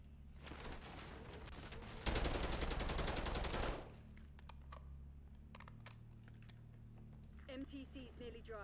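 AK-74 assault rifle fire in Black Ops 6 multiplayer: a dense, loud burst of rapid automatic shots lasting about two seconds, followed by scattered sharper clicks and game effects under a steady background bed.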